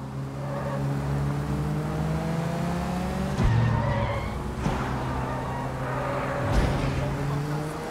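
A fast car tears along in the Sleeping Dogs video game, its engine a steady loud drone across the whole stretch, broken by brief tire squeals and skids.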